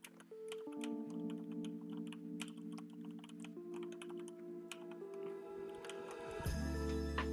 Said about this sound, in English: I'll just type this one out.